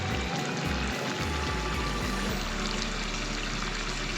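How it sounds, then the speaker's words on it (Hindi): Whisked yogurt is poured into a pan of chicken white karahi, giving a continuous, close, fairly loud pouring and sizzling splatter that runs unbroken for a few seconds with no talk. "आधा पाव दही है ये ऐड करेंगे।"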